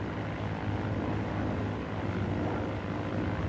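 A Grumman F6F Hellcat's piston engine roars on takeoff, a steady loud broadband drone with a low propeller throb, unbroken and constant.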